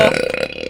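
A single short, loud burp with a rough, buzzy tone, lasting under a second.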